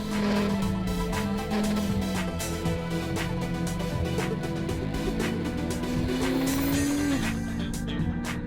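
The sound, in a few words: Honda CMX500 Rebel motorcycle riding on road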